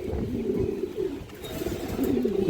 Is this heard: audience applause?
no